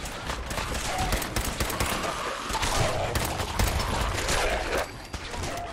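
Rapid bursts of gunfire crackle through a Fallout 4 firefight, dense overlapping shots and fusillades filling the stretch with loud, continuous clatter.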